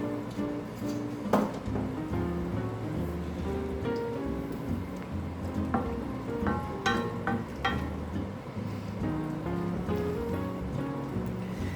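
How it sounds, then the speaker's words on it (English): Red wine and onions sizzle and crackle steadily in a hot pan over high heat while being deglazed, a dense, continuous spattering hiss with occasional sharper pops. "Now we are deglazing with all these onions. All the wine."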